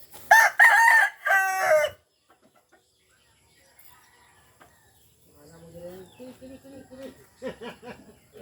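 A rooster crows loudly once nearby, then after a quiet pause hens cluck in a steady, busy chatter.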